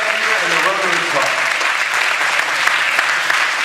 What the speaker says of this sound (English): Right there, a round of applause.